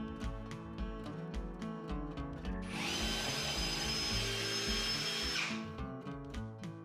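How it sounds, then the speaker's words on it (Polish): An impact driver drills small holes in wood, a steady whining burst of about three seconds rising over a rhythmic mechanical background, close and loud. "Wiercenie małych otworów."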